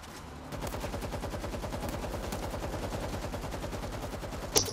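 Turret gunfire in World War Z Aftermath, a fast, even automatic stream that runs for several seconds at moderate loudness with no talking.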